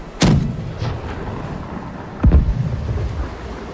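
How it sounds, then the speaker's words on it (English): Two heavy cannon blasts from a pirate naval battle video game, each a sharp loud boom with a rumbling tail, the first near the start and the second about two seconds later, over a steady windy, watery background. "All cannons are loaded, Captain. Excellent. Cannon inbound."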